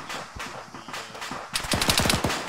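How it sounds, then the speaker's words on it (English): Gunfire in the military video game Arma: scattered single shots at first, then a loud rapid burst of automatic fire with sharp, evenly spaced cracks. "Shooting at me, but it's way too accurate."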